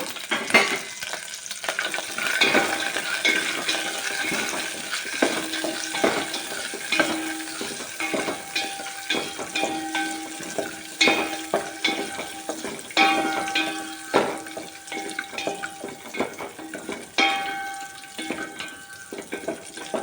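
Cashews fry in hot oil with continuous sizzling and crackling, occasional clinks and stirring scrapes in a pan, fairly soft and steady.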